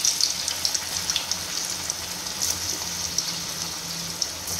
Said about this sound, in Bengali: এগুলো হালকা এখন ফ্রাই করব।